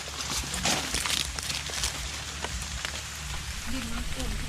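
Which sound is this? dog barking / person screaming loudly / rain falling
rain falling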